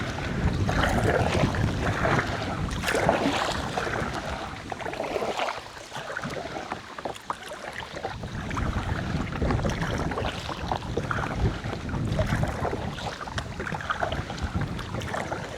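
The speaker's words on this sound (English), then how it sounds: "Those are light wind gusts" Light wind gusts buffet and rush past while kayaking on the Ardèche river in the South of France, a continuous blustery roar that rises and falls under faint water sounds.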